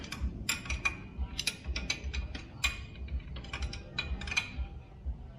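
Ratchet wrench clicking in quick bursts while tightening a bolt on a Hyundai Getz engine during an engine mount and steering belt job, close and crisp with short pauses between runs of clicks.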